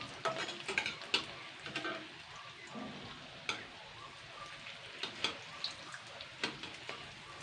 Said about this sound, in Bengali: মিডিয়াম আঁচে এইভাবে ভেজে নেবো সবগুলোই